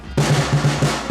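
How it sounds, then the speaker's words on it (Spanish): Caja snare drum struck with two wooden sticks, playing a steady repeating beat of sharp, close hits that ring on between strokes, used in northern Chilean festivities. "Ese es el sonido de la caja"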